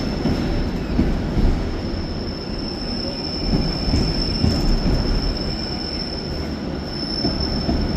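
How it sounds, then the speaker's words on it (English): A Class 68 diesel locomotive and its train pass close by at Carlisle station. Steady loud rumble with persistent high wheel squeal runs throughout, and no voices are heard. "it's always nice to see a class 68 operating on the service instead of the usual 88"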